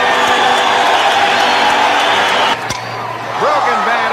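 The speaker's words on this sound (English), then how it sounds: "Listen to the crowd." A baseball stadium crowd roars loudly and steadily as Reggie Jackson comes up to bat, then dips briefly before rising again while a commentator speaks over it.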